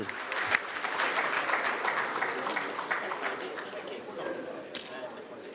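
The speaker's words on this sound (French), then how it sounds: "sous vos applaudissements s'il vous plaît" An audience at an insurance finance panel at FANAF 2019 applauds as panelists receive certificates, a sustained wash of many hands that tapers slightly near the end.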